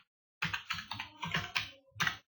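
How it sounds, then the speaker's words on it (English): Quick keystrokes on a computer keyboard, about seven close, crisp clicks tapped in an uneven burst with a short pause before the last one. "So first I'll type some text."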